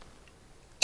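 A single short, sharp throat clearing bursts out near the end after near silence, loud and close with a harsh rasp.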